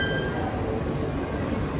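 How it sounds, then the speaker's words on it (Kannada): A packed Bangalore metro train pulls into a station, its steady broadband rumble and rolling noise continuous and fairly close, with faint metallic clinks on top. "ಮೆಟ್ರೋ ಬಂತು, ಫುಲ್ ಕ್ರೌಡ್ ಇದೆ"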